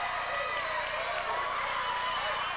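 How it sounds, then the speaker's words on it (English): A wrestling crowd in Reading, Pennsylvania roars and cheers in a dense, steady wash of noise from a packed arena, sustained throughout with no clear breaks. "And the crowd is going nuts."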